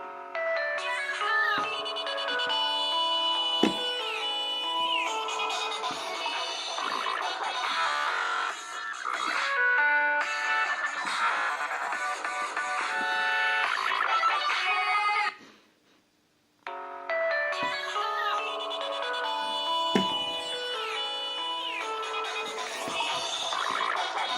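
Ringtones from a 2007 Nokia E51 phone play one after another: bright, tinkling electronic melodies, loud and continuous, with a brief silent gap partway through before the next tune starts.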